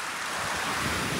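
Big waves wash onto the Lake Superior shore in a broad, steady roar of surf, close and loud and mixed with wind buffeting the microphone.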